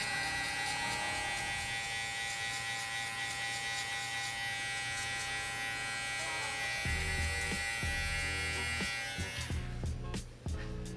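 Electric hair clippers fitted with a number one guard buzz steadily while cutting hair for a burst fade, the motor's drone shifting in pitch partway through as the blades bite into hair, with no talking.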